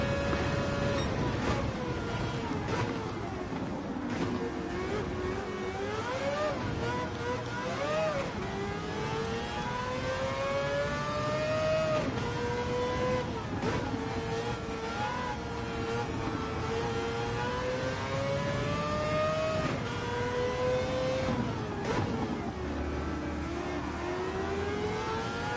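A Ferrari race car engine in Gran Turismo 7 at Spa howls steadily and rises and falls in pitch through repeated upshifts and downshifts, accompanied by other cars in the race.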